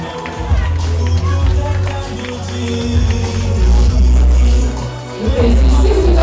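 An awards-night audience applauds Sidonie with a dense, sustained patter of many hands, blended with crowd noise and a low rumble, steady and fairly loud throughout.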